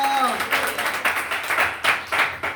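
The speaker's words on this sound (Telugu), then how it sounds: "గట్టిగా చప్పట్లు కొట్టి దేవుని కనపరచుదామా?" A church congregation claps loudly together in a steady rhythm of bursts, close and lively, while a voice speaks at the start.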